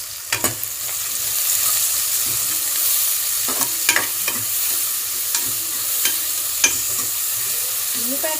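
Onion and green chillies fry in a pan with a steady broadband sizzle, punctuated by several sharp scrapes and knocks of a spoon stirring through the clip, no talking.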